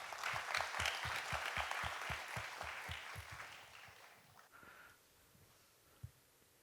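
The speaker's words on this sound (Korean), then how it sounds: "큰 박수 보내주시면 감사하겠습니다" Audience applause for a speaker being welcomed at a Korean university admissions information session: a steady crowd of clapping with a rhythmic pulse, close and full, that gradually fades away, followed by a single tap.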